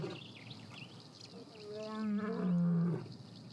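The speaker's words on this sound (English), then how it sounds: "He's responding, sending out a powerful roar." A male lion's powerful territorial roar answering a rival male in the wild, rising from a low rumble into a loud, sustained, deep moaning call over faint background ambience.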